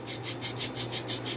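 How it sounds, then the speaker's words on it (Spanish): Sandpaper scrubbed by hand around a rusted rotor, giving rhythmic back-and-forth rasping strokes, about seven quick close scrapes in a steady pattern with no talking. "Lijamos un poco de esta forma, apretamos y damos vuelta."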